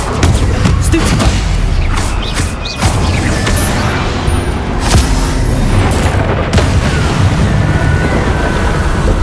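The Stupefy spell is cast in the video game Hogwarts Legacy, giving loud, booming magical blasts and bursts amid dense, continuous combat effects, with repeated sharp impacts across the stretch.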